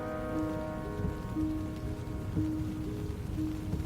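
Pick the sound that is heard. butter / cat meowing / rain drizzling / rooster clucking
rain drizzling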